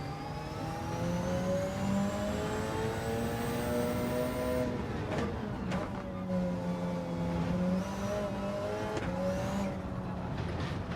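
A race car engine in a racing game at Road Atlanta drones and revs continuously, its pitch climbing and falling through gear changes, loud and close with no talk.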